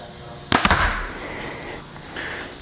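An arrow loosed from a Hoyt Axius Ultra compound bow: one sharp, loud release crack with a short echoing ring fading behind it, heard close and alone.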